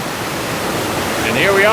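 Franconia Falls, a mountain waterfall at the end of the Franconia Falls Trail, gives a steady broadband rush of falling water at close range, with no talk over it.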